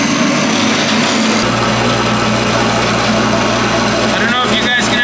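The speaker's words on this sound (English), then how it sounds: "So we gotta manually pump it, just with the switch. And that turns on this electric motor." An electric milk pump motor on a dairy farm runs loud and steady, a constant high-pitched whirring hum close by that shifts in tone as it pumps milk up to the bulk tank.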